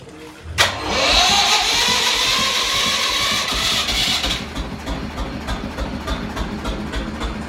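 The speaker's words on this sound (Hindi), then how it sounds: "देखो ये गोबर गैस से चल रहा है" An engine-driven electric generator running on cow dung biogas, rated 7.5 or 10 horsepower, starts with a sharp bang and settles into a loud, steady rumbling chug, then continues as an uneven pulsing throb.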